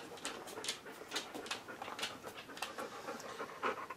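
Rapid, breathy dog panting close by, a steady rhythm of quick huffs with a faint whimper now and then, no talking.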